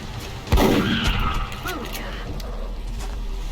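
A single loud gunshot blast in the turn-based video game XCOM: Long War, a sharp crack followed by a rumbling tail and fainter scattered impacts, with game sounds continuing underneath.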